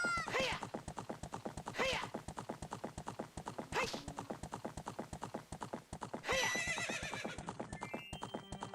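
A horse in Ocarina of Time clip-clops steadily at a brisk, even rhythm throughout, with several loud neighs and whinnies breaking in over the hoofbeats; faint game sounds sit underneath.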